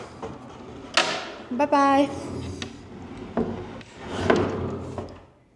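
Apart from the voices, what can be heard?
pocket door sliding open and closed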